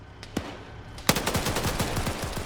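Rapid bursts of 7.62 rifle fire from a SCAR in a first-person shooter match, a sharp single shot followed by a dense volley of cracks, loud and close.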